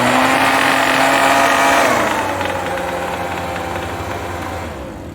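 A Homelite UT08572 leaf blower engine runs loud and steady close by, with a rattling buzz layered over the drone, then its pitch drops and settles into a quieter, even hum.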